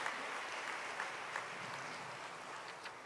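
A church congregation claps in welcome during a Sunday service, a steady wash of applause at moderate level with no talking over it.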